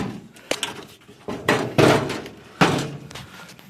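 Door from a 1986 Chevrolet Blazer being pushed and fitted into place, giving several wooden-sounding thunks and knocks of varying loudness, close by, with no talking.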